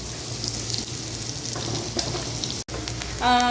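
Steady sizzling of onions with ginger and garlic frying in a pan for seekh kabab masala, a continuous crackling hiss with faint stirring scrapes, loud and close.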